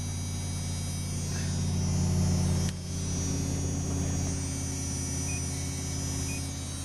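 Dodge Dakota truck engine idling while running on a Wayne Keith wood gasifier, a steady low hum with a continuous drone and no voices, briefly dipping once midway.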